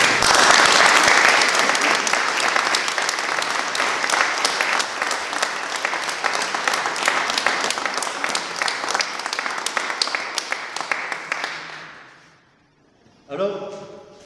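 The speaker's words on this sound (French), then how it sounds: "Merci Jean-Claude, et on l'applaudit." Warm, sustained audience applause at a gathering, a dense wash of many hands clapping that holds steady for about twelve seconds, then fades out before a speaking voice returns.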